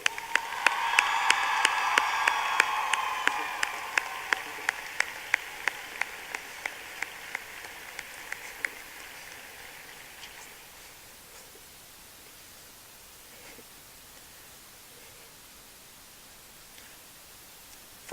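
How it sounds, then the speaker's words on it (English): An audience applauds the 2018-2019 State FFA Officer Team at the Georgia FFA Convention. The clapping is loud and dense at first, then thins into scattered claps before fading to near silence. "please join me in one final round of applause for the"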